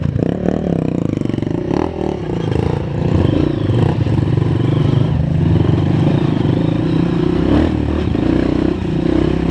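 A trail motorcycle accelerates on a rough dirt trail with a loud, steady engine drone up close, plus clattering and scraping over ruts and rocks.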